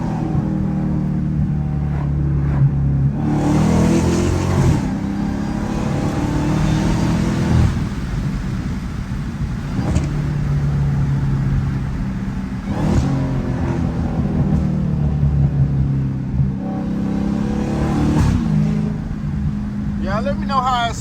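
A Dodge Hellcat with a catless exhaust drives and revs, giving a loud close engine roar that swells and eases through repeated accelerations and gear changes, with someone talking over it.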